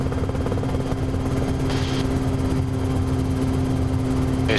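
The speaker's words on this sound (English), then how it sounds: "You see how much more wind noise you get almost at 100 miles an hour." Small aircraft in flight at close to 100 mph, with loud continuous wind rush over a steady engine and propeller drone inside the cabin.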